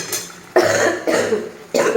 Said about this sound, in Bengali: এখনও কাশিটা কমেনি